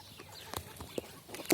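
A few faint, short clucks come from chickens in a backyard coop, scattered and soft against quiet background noise.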